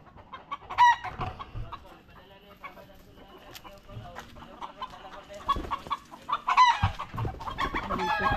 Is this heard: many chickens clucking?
yes